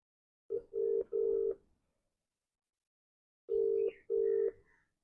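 A telephone call to a relative being placed at home, with steady electronic dial or ringback tones in two short bursts, two or three tones each and a pause between, fairly clear and alone.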